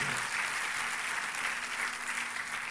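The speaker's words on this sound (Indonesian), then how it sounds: "Kasih tepuk tangannya boleh yang paling meriah buat Tuhan." A church congregation applauding steadily, dense continuous clapping from many hands filling the space without a break.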